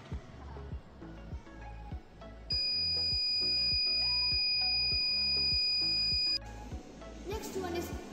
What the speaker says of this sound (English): When fire leak is detected, it triggers buzzer or alarm to alert homeowners or people.